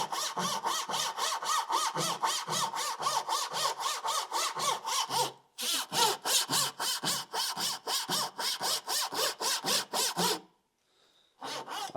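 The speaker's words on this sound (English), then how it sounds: "that was about 35 strokes with the crosscut saw" A Japanese crosscut saw cuts through wood in quick, even push-pull strokes, a loud rhythmic rasp heard up close, with two short pauses before the sawing starts again.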